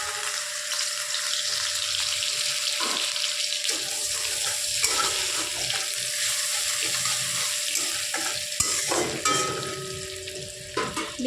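Nigella seeds and grated ginger sizzle in the oil left from frying small fish for a mustard-poppy seed curry. A loud, steady hiss runs throughout with faint crackles, and nobody speaks.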